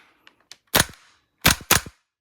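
A WE MP7A1 airsoft gas blowback gun firing, with a couple of faint clicks followed by three sharp, loud close-range pops in quick succession.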